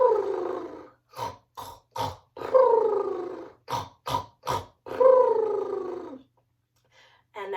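A storyteller's voice imitates a little boy snoring in bed, with repeated drawn-out rasping snore sounds alternating with short sniffing breaths in an uneven rhythm.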